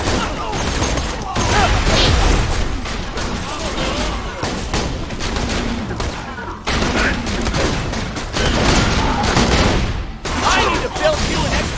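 Dense, continuous gunfire from a Borderlands 2 firefight, bursts of shots and booms layered over game music and character voices, loud and busy throughout with no pauses.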